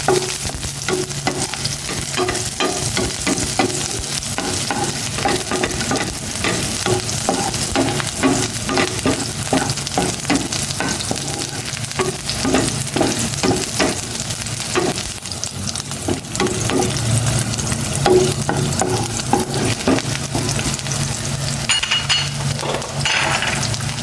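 Onions frying in a pan for pork adobo, a continuous loud sizzle with scraping and stirring noises throughout, no voices.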